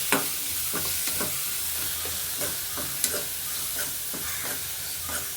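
Onion, green chilli and ginger sautéing in a pan, with a steady sizzle under repeated scraping and stirring strokes at a loose, regular rhythm, close by.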